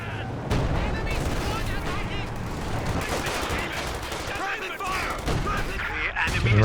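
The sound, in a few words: ZiS gun artillery barrage in Company of Heroes 2 video game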